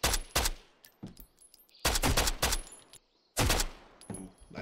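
AK rifle gunfire in a video game comes in three loud, close bursts of several rounds each, separated by short gaps with faint echoing tails, and no one talks.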